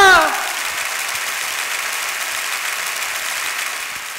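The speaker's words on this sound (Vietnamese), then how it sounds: "Xin một tràng vỗ tay thật lớn lên nào." Guests at a Vietnamese wedding ceremony break into a broad, sustained round of applause right after a brief voice, the clapping filling the hall evenly and steadily for several seconds.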